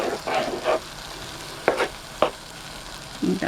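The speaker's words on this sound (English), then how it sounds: "I'm going to let this sizzle a bit" Rabbit fried rice with garlic sizzles in a hot pan at about 400 degrees, a soft steady fry broken by several sharp scraping stirs against the pan.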